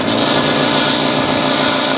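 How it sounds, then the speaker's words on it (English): A power grinder grinds a broken-off steel file flat, a loud continuous abrasive whine and hiss held steady throughout, close up. "I'm grinding it basically flat. And then I'm going to grind a knife point at an angle on it."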